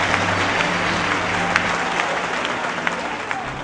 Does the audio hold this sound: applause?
yes